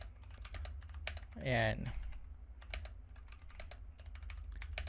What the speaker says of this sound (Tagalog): Okay, so right now, nagta-type ako ng kung ano-ano.